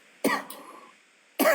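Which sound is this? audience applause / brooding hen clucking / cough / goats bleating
cough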